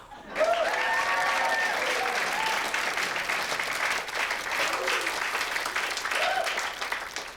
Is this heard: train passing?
no